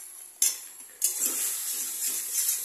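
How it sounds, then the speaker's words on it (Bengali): Mashed banana flower with a little turmeric is stirred in a pan: two sharp metallic clanks of a spoon against the pan, then a steady sizzling hiss with soft scraping, close, with no voices. "ভালো করে একদম পুরো নাড়াচাড়া করে নিতে হবে"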